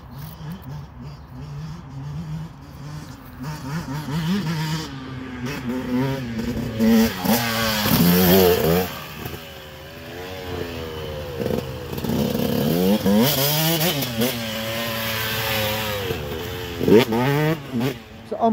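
KX 250 motocross bikes riding on a dirt track, a two-stroke engine revving up and down, rising and falling as the bike passes and jumps, with wind and some voices around.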